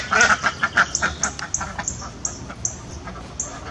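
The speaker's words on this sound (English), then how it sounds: "The little ducks usually put themselves to bed, and all I have to do is tell them to go to bed, and they go into their little coop." Small farm ducks quacking as they file into their coop at bedtime, a string of short, fairly close quacks in an irregular rhythm that thin out toward the end.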